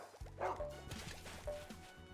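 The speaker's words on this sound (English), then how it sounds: "Fucking stupid dog" A cartoonish dog barks repeatedly in the Garfield Lasagna Party video game, short yips and woofs over bouncy game music with plinking, drip-like effects, moderately quiet.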